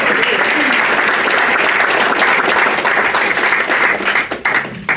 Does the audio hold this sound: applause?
yes